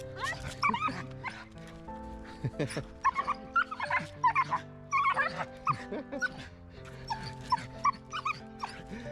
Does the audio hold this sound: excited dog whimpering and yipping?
yes